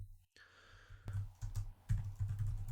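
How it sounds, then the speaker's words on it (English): Typing on a computer keyboard, a quick run of close, crisp key clicks with slight irregular rhythm after a brief quiet start, alone without talk. "let me just begin to type this out."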